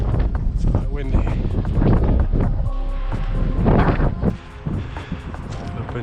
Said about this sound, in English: The hatchway, it's quite windy.